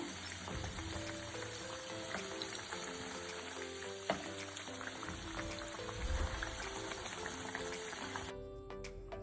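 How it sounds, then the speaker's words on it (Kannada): Crispy masala vada deep-fry in oil, a dense continuous bubbling crackle with scattered pops, faint and steady under soft background music, without talking. "ಈಗ ಇನ್ನೊಂದು ಸೈಡು ಫ್ರೈ ಮಾಡ್ಕೊಳ್ಳೋಣ ಹಾಗೆ."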